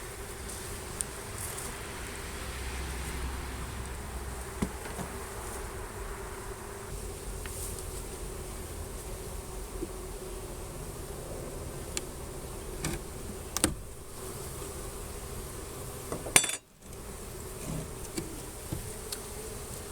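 Honey bees buzzing around an open hive during a honey harvest, a continuous low drone of many bees close by with scattered faint clicks and knocks of frames, no talking.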